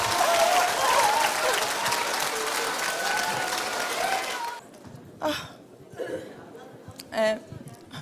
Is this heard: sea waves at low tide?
no